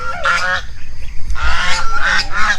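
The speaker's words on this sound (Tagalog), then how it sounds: "ingay ng mga gansa" A flock of geese near a garden of calamansi and okra honks loudly in repeated overlapping bursts, close and insistent, with two main clusters of calls over a low outdoor rumble.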